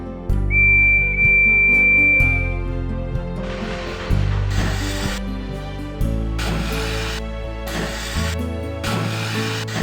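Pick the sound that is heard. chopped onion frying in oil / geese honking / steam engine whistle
steam engine whistle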